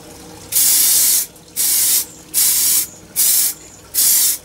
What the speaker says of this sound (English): So these I will spray directly while they're sitting on here.